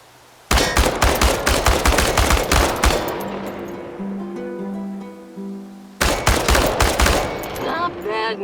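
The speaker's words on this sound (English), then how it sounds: "The biggest challenge is compensating for recoil in automatic firing mode." Automatic weapon firing at cans in the video game Chernobylite: a loud sustained burst of rapid shots for about two and a half seconds, a pause with game tones, then another sharp burst.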